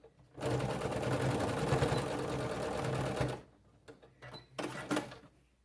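Up close, a sewing machine stitches a rice-filled heating pad pouch with a loud, steady run of about three seconds, then stops and gives a few brief stitching bursts.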